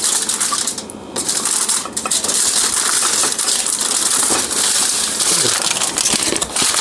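Aluminium foil is pulled and torn off a roll in a kitchen, a dense run of crinkling, crackling rustles lasting several seconds, close and fairly loud, with no talk.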